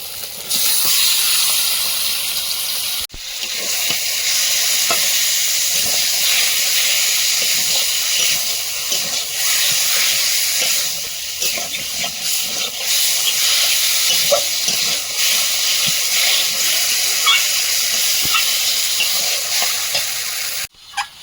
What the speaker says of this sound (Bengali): থেকে তেল ছেড়েছে এখন চিকেনটা দিয়ে দেব